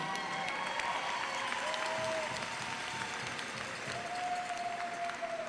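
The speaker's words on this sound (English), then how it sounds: "Give her and Children's Miracle Network a big round of applause." A hockey arena crowd at a Columbus River Dragons versus Port Huron Prowlers game applauds steadily, a broad even wash of clapping with a few faint whistle-like tones cutting through.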